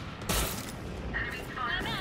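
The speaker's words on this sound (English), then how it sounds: "Dude, the shooting noise is so nice." A sharp burst of video game gunfire cracks out near the start, followed by lighter in-game effects and a faint ringing tone, with a player's voice briefly present.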